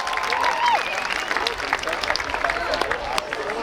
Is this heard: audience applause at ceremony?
yes